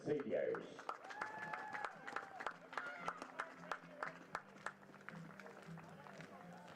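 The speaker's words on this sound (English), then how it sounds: "one more round of applause for your 2023 Bruin seniors" A crowd applauds at a college baseball Senior Day ceremony honoring graduating players, steady clapping from a distance mixed with crowd noise and a voice talking over the top.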